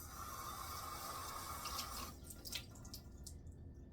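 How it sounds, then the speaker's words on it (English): Water runs from a kitchen tap in steady broadband noise that gives way after a couple of seconds to scattered splashes and drips, as hands are wetted for handling focaccia dough. "I'm going to keep the water running just a little bit because I'm going to have to keep watering my hands."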